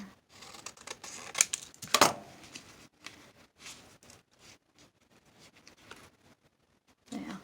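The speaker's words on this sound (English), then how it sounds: "So I'll cut it here." Scissors snip through paper while a valentine card is made, giving a few sharp, close cuts near the start and scattered soft rustles of paper handling after them, in a quiet room.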